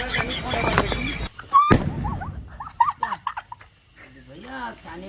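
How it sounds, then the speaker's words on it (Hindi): A firecracker bursts with one sharp loud bang close by during a festive outing, followed by excited shouting and chatter from several people. "डर डर के फटाका नहीं फोड़े"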